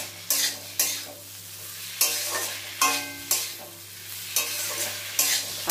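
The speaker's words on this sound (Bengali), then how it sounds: "ভালো করে একটু তরকারির সাথে মানে সবজির সাথে ভালো করে কষিয়ে নেব" Vegetables being stir-fried in a pan for a fish curry with slit green chillies, with repeated scraping strokes of a spatula every second or so over a steady sizzle, close and fairly loud.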